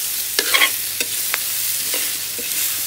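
Thai curry paste stir-fries in oil for a northern Thai eel curry, a steady sizzle broken by several sharp scrapes and clacks of a utensil against the pan, with no voices.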